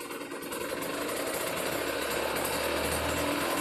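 Carburetted engine being tuned, running steadily with a rising low drone toward the end as it revs up, loud and close with no talking.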